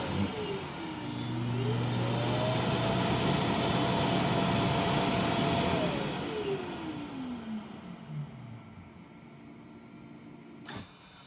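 A Dreame robot vacuum's auto-empty station runs: a steady mechanical whir rises in pitch, holds, then winds down, with a broadband rushing airflow throughout and a sharp click near the end; no talking.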